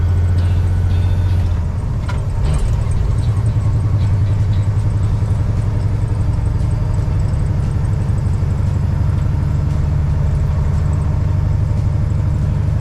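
A truck engine runs steadily with a low, loud drone, a brief shift in tone near the start as the driver works the gears and the clutch slips, then a constant rumble.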